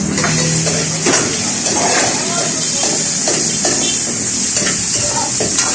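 Pancit noodles being stir-fried at a busy Filipino food stall in a paluto market, with a steady sizzle and scraping stir under constant crowd chatter and nearby voices.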